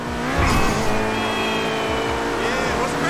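Audi R8 V10 5.2 from 2022 in GTA Online, a loud engine revving and accelerating with gear-change dips, tyres squealing briefly, while people talk over it throughout.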